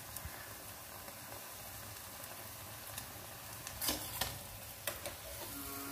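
Homemade veggie burger patties fry in hot oil with a steady close sizzle and occasional louder pops and crackles, and no one speaking.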